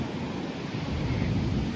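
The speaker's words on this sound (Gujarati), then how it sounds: "આ જો ભરતી આવે છે અત્યારે." Sea waves of an incoming tide roll onto the shore near a river mouth, a dense continuous surf roar close by with wind buffeting the microphone.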